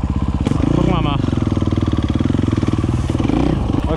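Motorcycle climbing over an obstacle at low speed, the engine chugging in a fast, even pulse with brief throttle blips and rattles, close and loud throughout.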